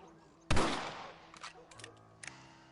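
A single sharp rifle shot rings out in the Western video game Red Dead Redemption, followed by a decaying rumble and a few faint clicks and clatters in a quiet scene.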